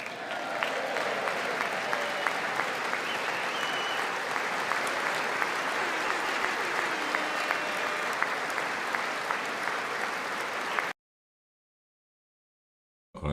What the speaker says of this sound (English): Oh, that clapping kind of loud